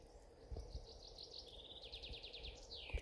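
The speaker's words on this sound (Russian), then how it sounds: "Птицы поют." Morning birdsong beside a lake: a small bird repeats quick chirping phrases at moderate distance, faint and steady over low outdoor background noise, with no talking.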